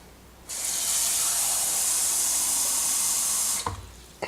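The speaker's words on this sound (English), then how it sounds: "So let's put another cup of water." Water pours steadily from a tap into a measuring cup for about three seconds, then cuts off, followed by a faint clink.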